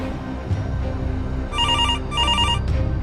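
A telephone rings in two electronic trilling bursts, clear and fairly loud over a low background hum.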